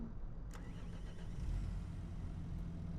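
A tractor engine in Farming Simulator 25 rumbles steadily at low pitch in a snowed-in farm scene, with a brief higher rev near the start and no talking.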